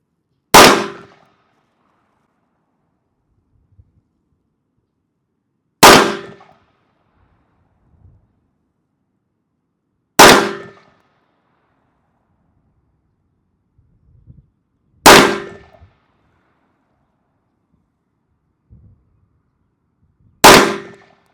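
Langdon Tactical Beretta 92 Elite Compact pistol firing a group at a range, five loud sharp single shots spaced about five seconds apart, each cracking then decaying quickly into near silence with faint small thumps between.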